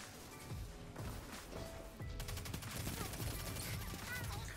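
Rapid bursts of Telesto fusion rifle fire in Destiny 2, crackling volleys of energy shots repeating across the whole moment amid game music and effects, fairly faint overall.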